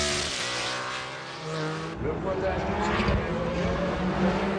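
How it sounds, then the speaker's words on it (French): Porsche 911 GT1 race cars lead the opening lap at Le Mans in 1996, their engines roaring steadily beneath a commentator's voice, with a sharp cut partway through. "Et les Porsche qui couvrent en tête le premier tour de cette édition 1996."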